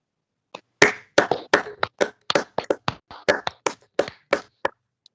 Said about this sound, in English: Another round of applause for the child ambassador.